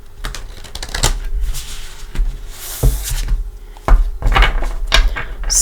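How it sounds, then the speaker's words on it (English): Tarot cards being shuffled by hand: repeated riffling and slapping bursts with sharp card snaps, close and fairly loud, continuing with no speech. "Get a nice clean shuffle."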